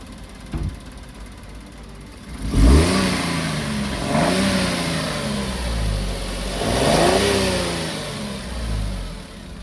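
A small car engine revs up in several short bursts, each rising and falling in pitch, with a steady idle rumbling between them.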